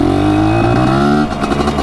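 A motorcycle engine with a freshly adjusted idle holds a steady, loud, close rumble, then rises briefly as it is revved near the end, with no talking.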